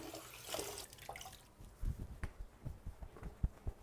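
Water splashed onto the face in a bathroom after a wet shave with a double-edge safety razor, a faucet running softly with a series of rhythmic close splashes and drips.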